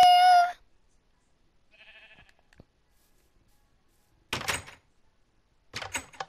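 Door opening in the Minecraft video game: two short, crisp clunking bursts a little over a second apart, after an earlier bleating sound and long stretches of near silence.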